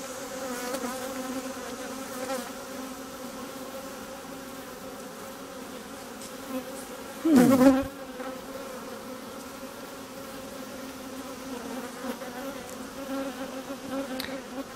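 A steady, dense hum of many honeybees buzzing inside a hive, with a brief louder rustling burst partway through.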